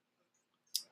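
A single computer mouse click while creating a new Google Form, one short, sharp tick close to the mic near the end of an otherwise quiet moment.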